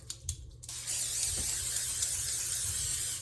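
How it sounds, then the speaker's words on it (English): A short click, then cooking spray hisses steadily onto a cake pan for a couple of seconds, close by with no talking. "I'm going to grab some spray, and I'm going to get my cake pan sprayed here."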